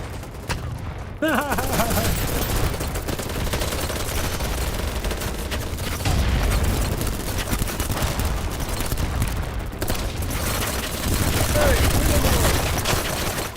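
Grenade blast and bursts of automatic gunfire in the online shooter Battlebits, a dense, continuous barrage of shots with booming impacts throughout, loud and sustained with a voice talking over the combat.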